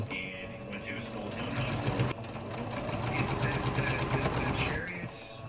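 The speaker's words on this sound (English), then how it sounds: "I'm gonna start sewing it down" A home sewing machine stitches down a layer of fabric laid on top of another, a steady rapid mechanical whir running continuously and fairly close, with a brief hitch partway through before it carries on.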